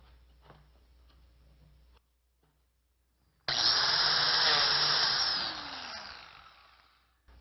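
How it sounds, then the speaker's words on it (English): A biscuit joiner plunges into a wooden jewellery box part, a loud, sudden high whine of the spinning blade biting wood that holds steady, then tapers off as the motor winds down, after a quiet pause. "Now we're ready to cut the biscuit joint."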